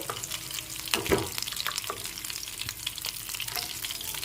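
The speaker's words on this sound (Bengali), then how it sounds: "এখন ভেজে নিচ্ছি আলুগুলো" Potatoes frying in hot oil give a continuous crackling sizzle, close by, with a few sharp spatula knocks and stirring scrapes over the top.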